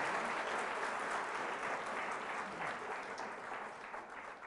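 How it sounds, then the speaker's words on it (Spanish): Loud, dense applause from a church congregation, a steady wash of many hands clapping together that holds strong throughout and eases slightly toward the end. "Fuertes aplausos"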